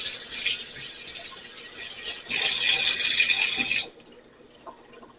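Water runs from a kitchen tap in a hissing stream while a Thanksgiving turkey is rinsed, surging louder for a second burst before the flow cuts off and a few faint drips and rattles follow.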